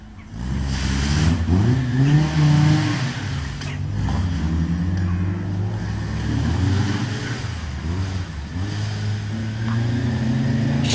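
Historic rally cars, many of them Volvo Amazons, slide around a skid pan at Oulton Park, with steady loud engine drone and revving rising and falling as cars pass close, continuous throughout.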